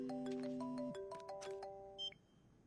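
A phone's ringback tone plays while a call connects, a series of short electronic tones in a repeating pattern at low level, then a brief beep as the line picks up.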